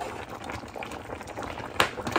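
Water boiling in a cooking pot for a Liberian water-greens and country beans dish, a steady bubbling hiss with one brief louder burst near the end, close and alone.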